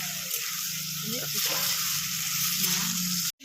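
Shrimp fry briefly in a hot pan, producing a steady bright sizzle close by with faint tonal sounds beneath, ending in an abrupt cut.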